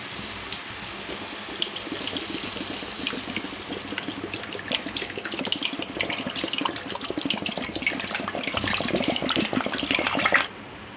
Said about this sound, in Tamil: இந்த நேரத்தில் நான் ஒரு 1/2 லிட்டர் தண்ணி சேர்த்துக்கிறேன்